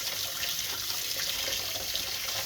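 Hot water runs steadily from a tap into a sink, a close, even hissing splash that continues without a break and with no talk.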